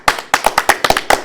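A small group of people applauds at a competition final, about ten quick, loud, close claps in an uneven burst that lasts just over a second.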